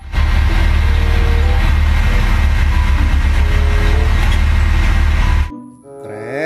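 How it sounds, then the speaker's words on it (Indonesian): Heavy, steady engine drone from a dump truck, loud and continuous for about five seconds before cutting off abruptly. "Mobil dump truck."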